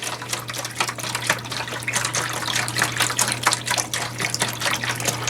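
Beef stock pours into a pot as a steady liquid gush and trickle at close range, over a low constant hum.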